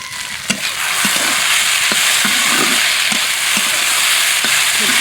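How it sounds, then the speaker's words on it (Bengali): Garlic, ginger, cumin, bay leaf and garam masala paste sizzles steadily in a pan, with a constant loud frying hiss and repeated scraping stirs at regular intervals throughout. "রসুনের মশলা কষাই নিতেছি"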